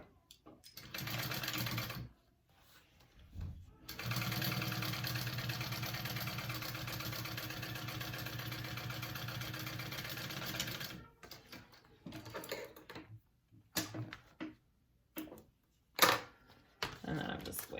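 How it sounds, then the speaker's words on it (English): Sewing machine stitching down the sides of a vinyl bag at a 3/8 inch seam, a steady mechanical whirr running for about seven seconds after a couple of short bursts, then brief stops and restarts near the end. "you want to sew down each side of these at a 3/8 inch seam allowance"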